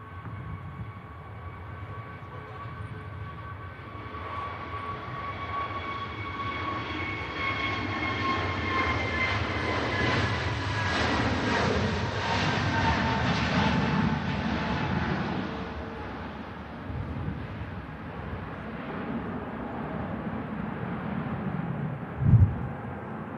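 An EasyJet jet departs Manchester Airport, its engine roar swelling as a whining tone climbs and shifts pitch, then fading into a distant rumble, heard from outdoors with no talk.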